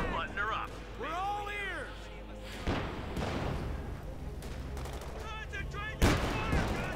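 Close-range artillery barrage in the WWII strategy game Company of Heroes 2 hits Panzer Fusiliers: heavy booms and bursts of gunfire rumble under continuous commentary, with a loud impact near the end.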